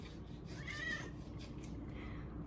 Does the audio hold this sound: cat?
yes